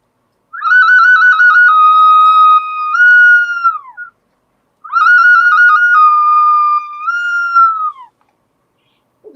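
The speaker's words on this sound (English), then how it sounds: "I used this little ocarina, a little whistle, as a bit of a sound in it" A small ocarina plays a bird-call melody in two phrases, each a steady, clear whistled tone with a few quick warbling steps and a falling glide at the end, separated by a short pause with no talk.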